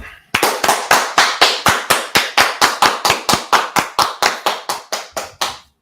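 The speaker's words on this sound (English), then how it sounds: "All right, let's clap it up." A group claps hands together in unison, about two dozen sharp, evenly spaced claps at a brisk, steady tempo, close and loud with no voices.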